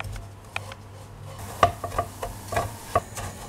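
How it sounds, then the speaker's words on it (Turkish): Kadayıf shreds roast in butter and sugar in a pan while a spoon stirs them, faint sizzling under a handful of distinct scraping clinks of utensil against the pan, close and quiet. "Kadayıfların üzerine 3 yemek kaşığı tereyağı ve 4 yemek kaşığı toz şekeri ilave edip rengi kızarana kadar karıştırarak kavuruyorum"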